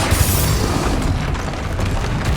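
A Confringo spell explodes in Hogwarts Legacy on Xbox Series X, a loud, close, sustained booming roar with crackling bursts running through the whole stretch, no voices.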